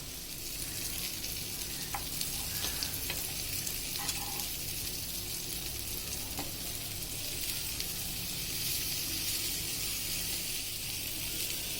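Masala-coated fish frying in a pan, giving a constant dense sizzle at moderate level with a few faint clicks scattered through it, no one speaking.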